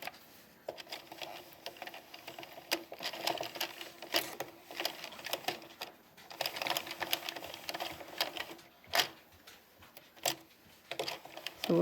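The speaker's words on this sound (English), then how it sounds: "so we continue to knit 2 rows" Addi Express knitting machine working rows of stitches, a steady run of rapid plastic clicks and rattles with irregular louder knocks as the carriage moves back and forth, close and fairly quiet.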